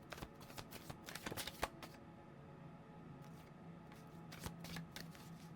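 Tarot cards being shuffled by hand, with quick riffling flutters in bursts at first, then quieter, softer shuffling and a few more crisp riffles, all close and faint.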